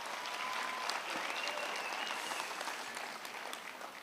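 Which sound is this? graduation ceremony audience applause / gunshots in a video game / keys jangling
graduation ceremony audience applause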